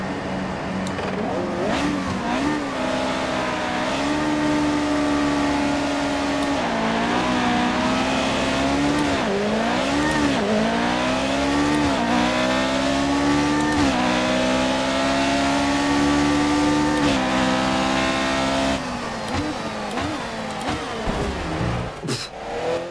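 A McLaren MP4-1 Formula 1 race car lapping Paul Ricard in F1 2018, its engine loud and close, revving up and down through gear changes with a continuous rising and falling whine throughout.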